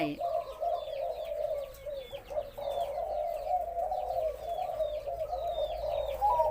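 White-feathered parent doves, kept as breeding birds for their voice, call in steady rounds of soft throaty coos, repeated close by and continuous throughout with no talk.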